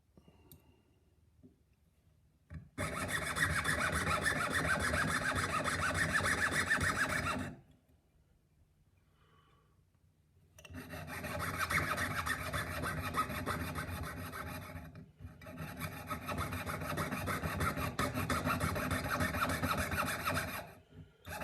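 Hand carving of a tiny gold robin, a steady rasping file or graver scraping in long continuous bursts separated by quiet pauses, close and fairly loud, with no talk.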